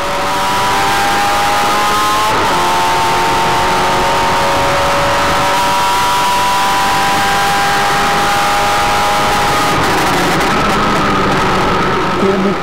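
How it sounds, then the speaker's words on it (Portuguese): A Formula Inter race car with a 2-litre, 4-cylinder, 16-valve engine accelerates hard, its loud, steady high-pitched engine note holding and rising for the whole stretch, heard close and continuous. "Canta alto esse motor de 2 litros, Ronaldo Arrighi."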